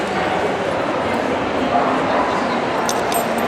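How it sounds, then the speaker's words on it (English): Dogs yip and whimper during a Crufts 2012 obedience display while handlers play with them. The sounds are short and sit within a steady, dense arena crowd noise throughout. "playing with the dogs"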